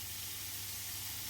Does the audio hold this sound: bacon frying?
yes